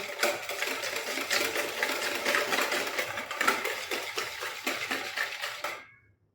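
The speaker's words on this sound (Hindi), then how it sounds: "क्रीम डाल के भी अच्छी तरह मिक्स कर लेंगे।" A spoon stirs cream into chicken gravy in a pan, making rapid, steady scraping and rattling strokes close by that continue without a break and then stop abruptly.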